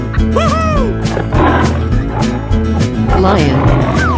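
Lion roar from a 3D animal slide video game, sounding amid busy cartoonish game music and effects, with a voice calling out over it.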